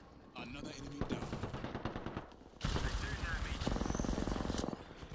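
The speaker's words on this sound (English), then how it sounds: "Oh, are they shooting at you?" Gunfire in the battle royale game Apex Legends, with sharp single shots early on and then a long, dense burst of rapid automatic fire, loud and close.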